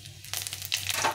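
Half a teaspoon of cumin seeds sizzling in hot oil with dried red chilli and a halved bay leaf, a steady crackling fry with bursts of spattering pops, close and moderately loud over a low hum.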